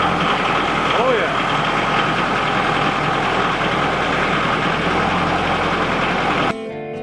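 LS tractor engine idling after a cold start, a steady loud diesel rumble with faint knocking throughout, cutting off abruptly near the end as the sound drops to low background.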